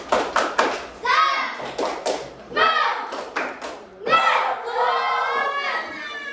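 A class of children claps in a quick rhythmic pattern while chanting together loudly, with bursts of clapping between shouted phrases.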